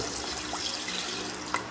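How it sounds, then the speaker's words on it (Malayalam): Water poured from a kitchen tap over beef as it cooks, a steady close hiss of running water that holds through with no voices. "നമ്മൾ ബീഫ് ഇട്ടതിന് ശേഷം ആവശ്യത്തിന് വെള്ളം ഒഴിച്ച് കൊടുക്കുക"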